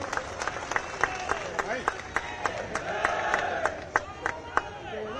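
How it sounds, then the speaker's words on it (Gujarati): An audience claps at a public gathering, sharp individual claps and a swelling burst of applause mixed with crowd murmur, fairly close and continuous for several seconds. "શ્રી રાહુલજી કુલદીપસિંહ બોલો તાળીઓના ગડગડાટથી આપણે સૌ વધારીશું"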